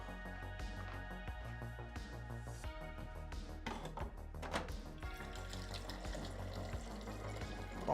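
Water runs and pours while someone fills a drink in an art foundry workshop, a faint continuous trickle and splash under low background hum, with no voices.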